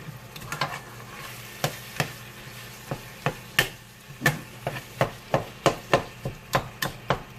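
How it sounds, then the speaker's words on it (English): Hamburger meat and green pepper cooking together in a pan for sweet chili, with a steady low sizzle under repeated sharp clicks and taps of a utensil stirring against the pan, close and fairly quiet, no talking. "I'm going to cook all these ingredients together until the hamburger meat is done"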